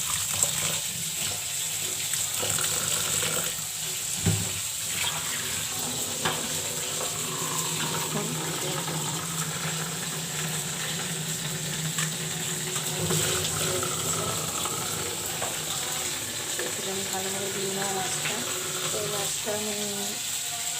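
Tap water runs steadily into a basin while small fish are washed by hand beneath it, a constant close splashing hiss with occasional soft knocks and clatters.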